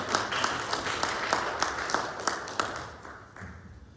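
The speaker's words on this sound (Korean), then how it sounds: "한번 힘찬 박수로 하나님께 영광을 드리도록 하겠습니다" A church congregation applauds during a Methodist Sunday worship service: dense, continuous clapping from many hands that carries on steadily and then thins out and fades toward the end, with no talking.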